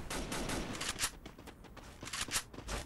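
Rapid gunfire rattles in Garena Free Fire, a mobile battle royale game. The bursts are fairly faint and come in quick, uneven volleys of sharp cracks over about three seconds.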